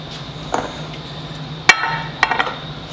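A glass baking container clinks and knocks a few times on a kitchen counter, sharp close taps spread over a few seconds against a quiet room hum.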